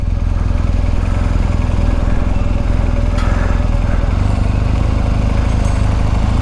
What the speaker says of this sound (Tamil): பாக்ஸர் ட்வின் இன்ஜின்ங்க இந்த வண்டி.